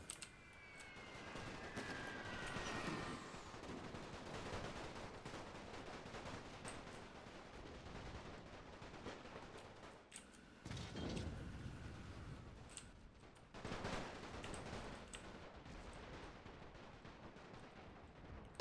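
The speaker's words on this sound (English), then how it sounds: "we are shooting some of our own men" Napoleon Total War battle with massed musket volleys and artillery, a faint, distant, continuous crackle of gunfire broken by heavier booming blasts over many seconds.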